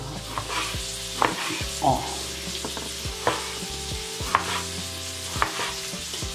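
Diced pressed ham, previously frozen, frying with seasoned rice and broccoli in a pan, with steady sizzle broken by repeated spatula scrapes and knocks against the pan every second or so.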